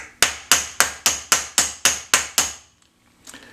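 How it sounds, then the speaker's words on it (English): A hammer strikes a copper vessel being raised into a beaker nine times in a steady rhythm, each blow ringing briefly with a bright metallic tone, followed by a faint clatter. "I can see, you know, where the hammer is hitting."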